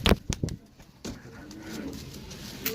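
Pigeons coo in a low, steady murmur, with a few sharper bird sounds and thumps at the start, close by in a pigeon-keeping setting.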